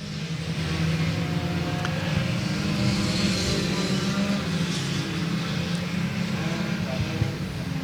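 Race cars at South Texas Speedway roar steadily in a continuous loud engine drone throughout, with a race announcer talking over the noise.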